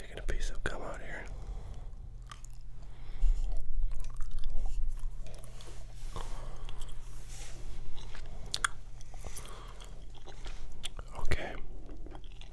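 Gum is chewed close to the microphone, with soft, steady smacking and crunching throughout, under continuous quiet whispering.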